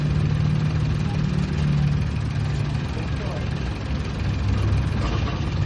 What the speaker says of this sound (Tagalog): Gumigiwang ang makina pag nagre-reverse.